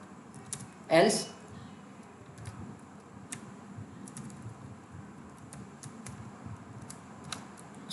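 C++ code typed on a computer keyboard, with sparse, irregular keystroke clicks scattered under someone speaking.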